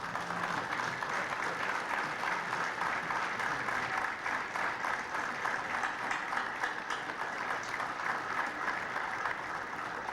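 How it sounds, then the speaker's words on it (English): Scholar athletes applauding their families at a dinner, an even, continuous round of clapping from a roomful of people with no talk over it. "the Scholar athletes stand up and applaud their families that are here tonight in attendance."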